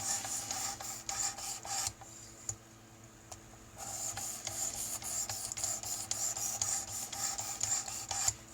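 A Camillus electrician's knife is sharpened on a grit stone: repeated close scraping strokes with a gritty hiss and small ticks, a quiet gap partway through, then steady strokes again, with no voices.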